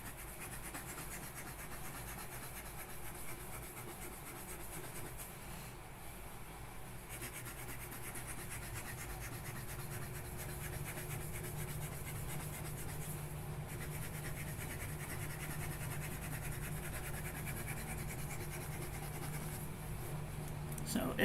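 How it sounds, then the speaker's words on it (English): A FPR Himalaya fountain pen scratches and rubs continuously across paper, writing steadily at close range over a soft background hiss, with a low murmur of voice at times. "back to writing again"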